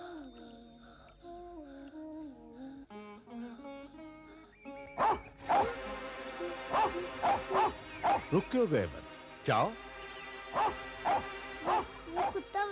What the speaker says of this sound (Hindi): वो कुत्ता चाचा,